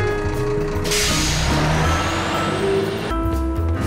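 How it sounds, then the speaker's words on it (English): A cartoon garbage truck arrives and pulls up with a loud, steady engine rumble, a hissing air brake partway through and mechanical clatter, with no voices. "Well, the garbage truck came."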